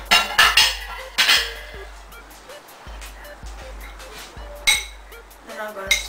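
Serving a raw cucumber, cilantro and jicama salad onto a dish brings clinks and scrapes of utensils against the dish, several sharp knocks scattered through a quiet kitchen with brief talk.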